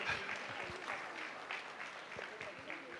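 Faint applause from an award-ceremony audience, scattered claps under a soft murmur of voices for a few seconds.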